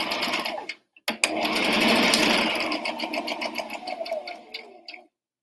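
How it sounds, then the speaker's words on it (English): A sewing machine hems the top edge of a double apron pocket, running in a fast, steady whir that stops briefly near the start, then resumes in a long continuous stretch before trailing off in uneven bursts and falling silent. "I'm hemming the top part of the double pocket to give it strength"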